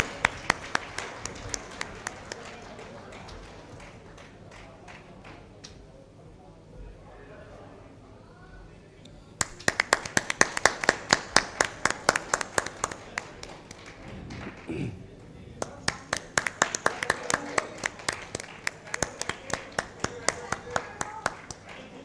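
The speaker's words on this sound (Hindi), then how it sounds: "जोरदार तालियां दोस्तों।" At a stage launch event welcoming Yogi Adityanath, an audience breaks into loud, crisp clapping in two bursts, a quieter stretch of talk between them.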